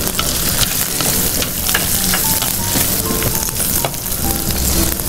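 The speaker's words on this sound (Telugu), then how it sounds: "వెల్లుల్లిపాయ కూడా వేసి కొంచెం మగ్గిన తర్వాత ఉల్లి తరుగు కూడా వేసేసుకున్నాం." Garlic and chopped onion sizzle steadily in hot oil in a home-kitchen pan, cooked for an organic cold-and-cough remedy dish; a dense, continuous crackle with occasional stirring scrapes, close and loud, with no talking.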